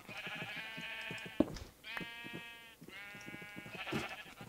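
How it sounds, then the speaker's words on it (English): Sheep bleating in Minecraft, several wavering nasal bleats in a row with short gaps between, fairly close and clear, with no talking over them. "Shut up, sheep."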